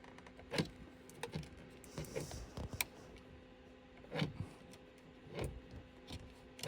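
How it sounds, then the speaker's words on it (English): A small plastic retaining clip behind a Mercedes-AMG GT S steering wheel pops loose as a paddle shifter is pried off, giving a few faint, close, isolated clicks and taps with quiet pauses between them. "And we should hear a nice little click."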